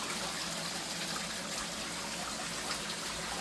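Water spills steadily over a small backyard pond waterfall, giving a continuous close rushing trickle with no voices.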